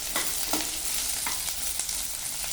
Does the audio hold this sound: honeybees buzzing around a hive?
no